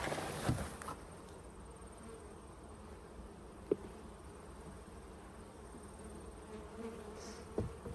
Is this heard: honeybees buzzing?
yes